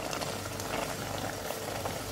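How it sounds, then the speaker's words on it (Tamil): Ghee going into thick, cooking Kasi halwa (ash gourd halwa) in a pan gives a steady, close bubbling and soft sizzle that holds evenly throughout with no talking. "பாருங்கள், நான் வந்து இப்போ நெய் இதில் போடப்படுறேன்."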